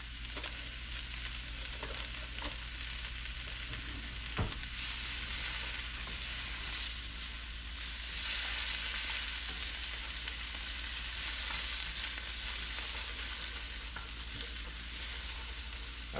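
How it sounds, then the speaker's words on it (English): Vegetables sauté in a pan over medium-high heat as a base for braised short rib, giving a steady, even sizzle with occasional stirring clicks and no talking. "We're going to saute those for about 5 minutes."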